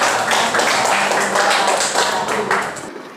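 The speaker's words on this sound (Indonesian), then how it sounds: "tepuk tangan untuk kelompok 2" A classroom of students claps for a student group, a dense, close burst of applause lasting about three seconds before fading out.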